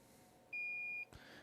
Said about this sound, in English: Soldering iron's beeping at me